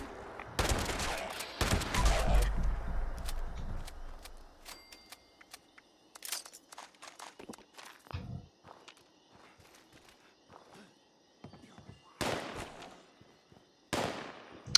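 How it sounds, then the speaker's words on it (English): Gunfire in the video game Fallout 76 crackles in scattered bursts, some near and loud, others faint and distant, separated by quieter stretches. "where are the gunshots coming from?"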